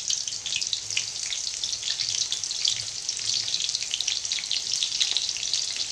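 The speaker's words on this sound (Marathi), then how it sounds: "आपलं तेल गरम झालेलं आहे आपण त्यामध्ये आता आपली कंटकी तळून घेऊ" Soybean kantakki, a whole packet with masala, frying in hot oil, making a dense, steady crackling sizzle that runs the full length, close and even, with no voices.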